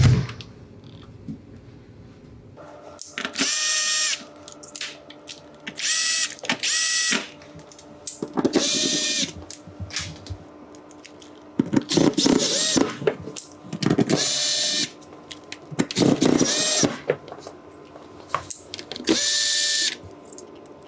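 A power drill drives screws into a fridge bracket during installation of a Fulgor Milano fridge and freezer column. About ten short, loud whirring bursts of varying length start and stop irregularly, with clicks and quiet gaps between them.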